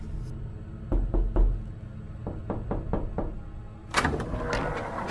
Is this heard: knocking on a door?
yes